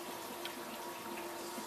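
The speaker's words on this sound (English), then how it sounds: "turn the cold water on" Cold water runs steadily from a kitchen tap into a sink, a continuous hissing splash with no talk over it.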